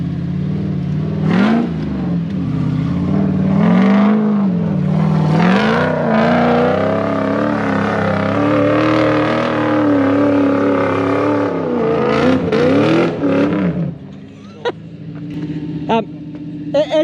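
A Toyota Surf with a 1UZ engine revs hard while stuck in slippery clay, its engine rising and falling loudly and continuously for most of the stretch before cutting out, leaving a few clanks and faint sounds.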